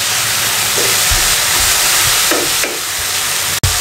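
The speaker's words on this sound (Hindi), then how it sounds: "इसको अच्छे तरीके से इसमें फ्राई कर लें 4 से 5 मिनट।" Garlic powder and crushed chili fry in a pan, making a continuous loud hiss with a few soft stirring bumps and a sharp knock near the end; no one speaks.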